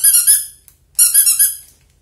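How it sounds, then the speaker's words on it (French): Squeaker insert for a stuffed toy squeezed twice, giving two bursts of high, bright squeaking, each with rapid chirps, close and loud with a pause between and no talking. "je trouve que le bruit, ça fait pouic-pouic"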